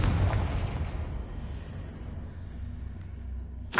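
A Confringo blasting spell in the Hogwarts Legacy video game sets off a heavy, booming explosion at the start that rumbles away, and a sharp burst follows near the end.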